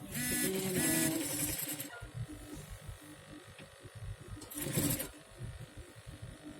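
A sewing machine stitching a vest lining in fast mechanical bursts, one at the start and another a few seconds later, with quiet handling noise in between.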